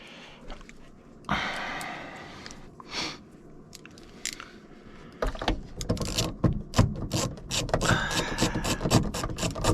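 A ratchet clicks as 8mm bolts are turned on a 2018 Dodge Journey Crossroads during a ribbon cable repair, rapid close ratcheting bursts after quieter handling noises.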